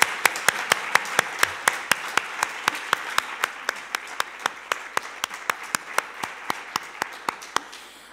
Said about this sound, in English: So I would like to welcome Peggy with a big applause.